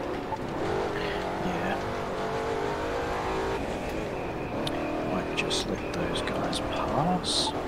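Race car engines roar in the driving game The Crew 2, revving and accelerating close by with a brief tire squeal, over continuous casual conversation between players.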